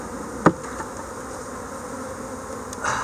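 Honey bees buzz at an open hive being worked with smoke, a faint steady hum with a sharp knock near the start and a brief rise at the end.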